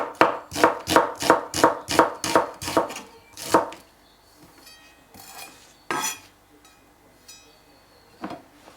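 A knife chops an onion finely on a board in a quick run of about ten sharp rhythmic strokes, then slows to a few scattered cuts and taps separated by quiet pauses.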